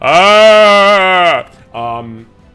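A person imitates a goat with a loud, wavering bleat lasting over a second, followed by a shorter, quieter second bleat.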